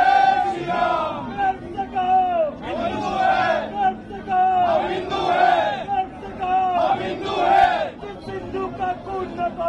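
Protesters on a Delhi street, demonstrating against Rahul Gandhi, shout slogans in unison. The loud chanted calls repeat in a steady rhythm about every second and a half.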